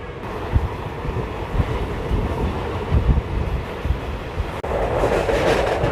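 Simhadri Express running on the line between Bhimavaram and Visakhapatnam, giving a continuous moderate rumble of rolling coaches with soft rhythmic clatter and some wind buffeting, steady and unbroken.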